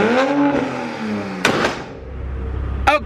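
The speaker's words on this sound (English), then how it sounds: "cold startup in the Supra" A Toyota Supra engine cold-starting with a sharp bark, its revs sweeping up and settling, followed by a couple of loud blips close by.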